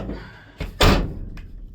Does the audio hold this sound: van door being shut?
yes